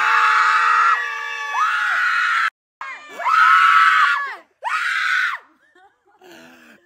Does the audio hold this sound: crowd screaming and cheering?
yes